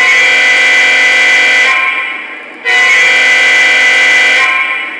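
A loud, sustained train horn sounds twice, each long blast fading briefly before sounding again, with no talk.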